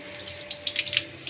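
Potatoes with soil on them are washed under running tap water, a continuous splashing hiss with small irregular splats as they are rubbed and turned.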